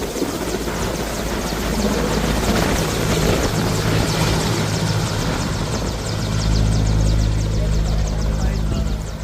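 An Air Force helicopter flies overhead, its steady rotor thrum and engine roar continuous and loud throughout, swelling slightly toward the end.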